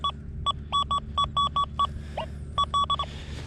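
A metal detector on a small beach sounds a non-ferrous target: a run of short, bright electronic beeps in quick pulses, then a pause and a few more, over low steady outdoor background noise.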